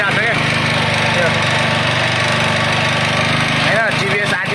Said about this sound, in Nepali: ल हेर्नुहोस् इन्जिनको साउन्ड पनि खतरा दिइरहेको छ क्या